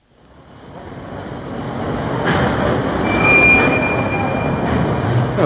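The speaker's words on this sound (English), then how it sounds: "Oh, this is our train." A radio-drama train rolls in beside a dock, its rumble swelling from near silence into a loud, steady roar with a thin squeal of wheels near the end.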